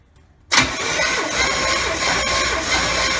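A 1979 Chevrolet Malibu engine cranks and catches abruptly after a moment of near silence, then settles into a loud, steady rumbling run close by with no talking.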